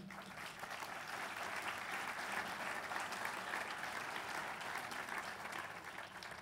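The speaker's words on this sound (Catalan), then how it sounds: "Si és tan amable, un aplaudiment per ell." Steady applause from an audience at an award ceremony greets a company director presenting the APEC 2010 digital action prize, a dense even clatter of clapping hands that holds at one level throughout.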